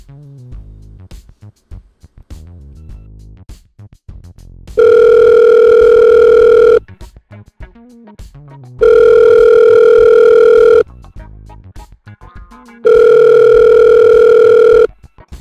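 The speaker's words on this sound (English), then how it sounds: "Let's get Ben on the phone" A telephone dial tone sounds three times, each a steady two-second hum, between stretches of fainter noise and clicks as a phone call is placed, with no one talking.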